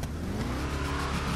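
A car engine revs hard as the accelerator is pressed, loud and close, a short continuous roar with no talking.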